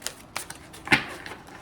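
Tarot cards being shuffled by hand give a few short, crisp riffling bursts, one standing out sharply near the middle, close up in an otherwise quiet room.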